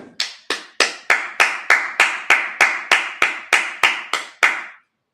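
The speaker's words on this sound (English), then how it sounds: "let's clap it up" Sixteen sharp, evenly spaced hand claps from a congregation at a Sabbath service, loud and close in a steady rhythm that stops abruptly, with no talking over them.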